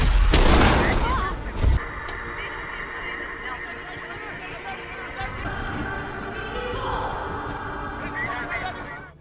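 A sharp burst of gunfire opens a film shootout scene, followed by lingering booms, tonal music and mixed effects continuing underneath.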